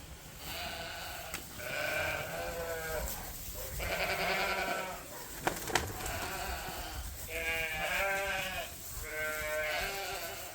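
Several wavering sheep bleats come one after another, fairly close, with a couple of sharp knocks between them and a quiet outdoor background.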